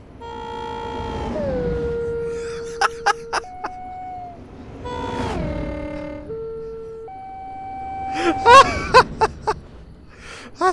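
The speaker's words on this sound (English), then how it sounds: "That's a fantastic horn!" A train horn in the video game Train Simulator 2017 sounds as long, loud, multi-tone blasts that slide downward in pitch like a faltering siren, sounding three times with a few sharp clicks in between.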